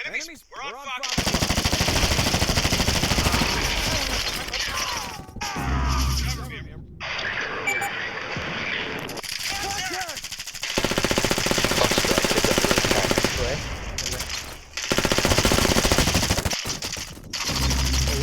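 Dense automatic gunfire fills the mobile shooter game Fire Front, rattling almost without pause in loud bursts and sustained volleys, with a player's voice and game dialogue mixed in.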